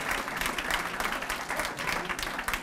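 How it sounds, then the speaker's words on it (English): Sustained audience applause fills a community fundraising celebration for ending homelessness, a dense steady wash of many hands clapping near and fairly loud, with some crowd noise mixed in throughout. "So give them a big round of applause."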